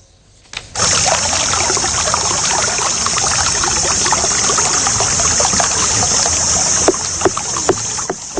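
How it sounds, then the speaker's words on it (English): Water leaking from a burst pipe in the Kantale Varnala area gushes and splashes steadily, loud and close, a continuous hissing rush that starts abruptly and carries on with a few sharper drips and splatters. "This water leak was reported from a pipe in the Kantale Varnala area."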